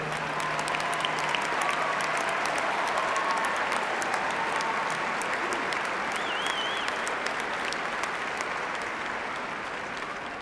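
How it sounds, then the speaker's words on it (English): A large commencement audience applauds the graduates' parents with loud, sustained clapping that fills the hall and tapers slightly toward the end, with faint crowd noise and a brief whistle mixed in. "Let's applause for the parents."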